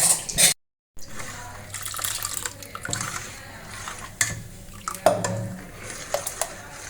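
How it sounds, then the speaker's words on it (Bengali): Water splashes and sloshes inside a blender jug as it is rinsed, with irregular soft washing noises and light clinks close by, following a brief silent gap near the start. "এবার ব্লেন্ডারের জগের ভিতরে একটু জল দিয়ে একটু ধুয়ে ওর ভিতরে দিয়ে দেবো।"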